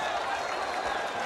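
A boxing arena crowd at a heavyweight bout between Evander Holyfield and Dwight Muhammad Qawi applauding and cheering, a dense continuous wash of clapping and crowd noise with a commentator's voice over it.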